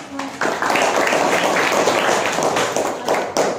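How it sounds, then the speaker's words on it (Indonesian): Students in a biology classroom break into applause, a dense, continuous wash of many hands clapping together that lasts several seconds at a steady level before tapering off. "Kasih aplaus dulu."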